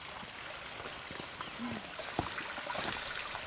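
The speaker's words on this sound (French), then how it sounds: "L'eau coule et traverse notre chemin." A small stream trickles and gurgles steadily outdoors, with faint splashes and a brief dull knock partway through.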